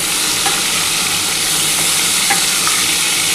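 Cauliflower florets fry in hot oil in a pan, a dense, continuous sizzle with faint stirring scrapes, loud and close with no voices.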